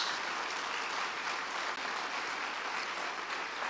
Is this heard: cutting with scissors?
no